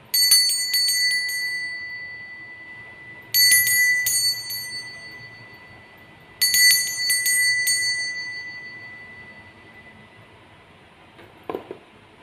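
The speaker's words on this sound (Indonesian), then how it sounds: "Kita langsung saja akan memulai dengan ditandai lonceng berbunyi" A bell rings out three times at a steady, slow interval, each clear metallic strike sustaining and fading before the next, loud and close against a quiet background, with a brief soft knock near the end.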